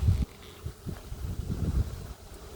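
A hive of angry honey bees buzzes close by in low, irregular swells, with wind rumble and handling noise mixed in over a short stretch.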